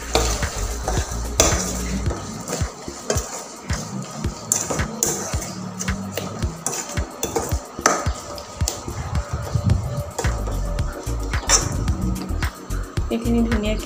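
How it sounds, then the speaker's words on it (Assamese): A spatula works sun-dried mango pieces into spices for mango pickle in a pan, producing close, rhythmic scraping and stirring strokes with light sizzle throughout, and a voice occasionally speaking underneath. "আমখিনি দি হেতাখনেৰে মছলাখিনি ভালদৰে মিলাই দিছোঁ।"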